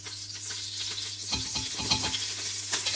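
Oil and ghee heat together in a pan, giving a steady soft sizzle with a few louder crackles and stirring scrapes near the end, close by and with no voices.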